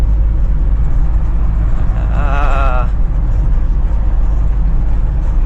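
Heavy road traffic packed with trailer trucks, a steady low engine rumble throughout with a vehicle horn sounding for about a second midway.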